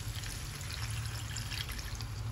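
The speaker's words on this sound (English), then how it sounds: "we will put some water inside" Water is poured steadily into a pot of simmering chicken feet, a continuous close splashing pour with no talking.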